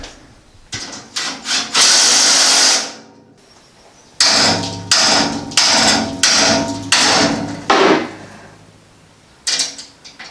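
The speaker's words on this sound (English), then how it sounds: "I'll probably have to hammer this side out straight to be able to get those holes aligned back up" A hammer strikes a bent skid plate on a lifted Honda Civic to straighten it, about a dozen loud, close, ringing metallic blows in irregular bursts with short pauses.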